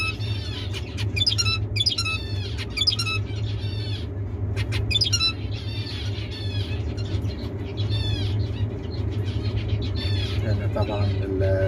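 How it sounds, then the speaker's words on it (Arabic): Male zebra finches sing during the start of a breeding season, giving repeated high chirps and squeaky call bursts over a steady low hum of background noise. "طبعا صوت التغريد ده صوت الذكور في الزبرة، صوتهم جميل."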